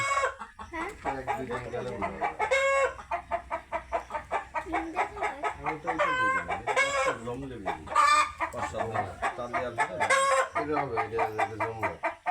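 Quail chicks at a bird park in Batikamari, Muksudpur, calling in a dense, continuous chorus of rapid peeps and chirps, fairly loud and close, with a few sharper, louder bursts rising above the steady chatter.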